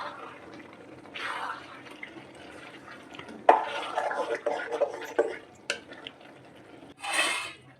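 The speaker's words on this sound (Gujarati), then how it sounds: "સારી રીતે મિક્સ કરી લેશું બધું." Manchurian being stirred and mixed in a pan, with scraping and clattering spoon strokes coming in uneven bursts at close range and quiet pauses between them.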